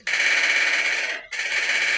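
Rapid automatic gunfire in a first-person shooter game, a loud sustained burst that cuts out briefly near the middle and then resumes at the same intensity.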